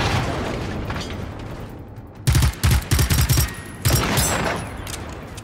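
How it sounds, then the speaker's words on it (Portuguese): Gunfire in the video game Generation Zero, a rapid burst of several loud, sharp shots close by, followed by another single report, breaking through a steady background hiss. "O que é que tava atirando na gente?"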